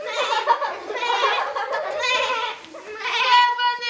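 A voice imitates a goat's bleat in several drawn-out, wavering calls during a Ukrainian Christmas carol, one after another with short breaks, close and fairly loud.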